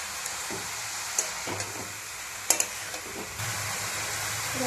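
Spinach and cabbage with spices being stirred in a pan, a soft steady sizzle broken by a few scraping clinks of the spoon against the pan.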